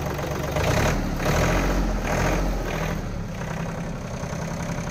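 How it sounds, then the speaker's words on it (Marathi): Close, steady idle of a Swaraj Target 630 tractor's Yanmar engine, a continuous low throbbing rumble with no voices. "ट्रॅक्टरमध्ये कशा प्रकारे इंजिनचा आवाज"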